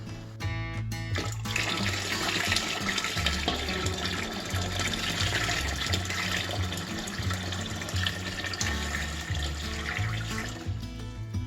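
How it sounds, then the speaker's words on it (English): Tap water pours steadily into a large canning pot holding jars, a continuous splashing stream with a hollow metallic resonance, running loud and unbroken for several seconds. "I need to add more water because we want this to be 1 inch over the top of the jars."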